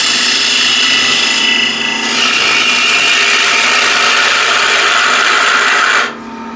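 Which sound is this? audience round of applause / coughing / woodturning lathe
woodturning lathe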